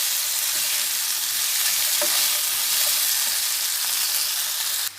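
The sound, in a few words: potatoes and tomatoes frying in pan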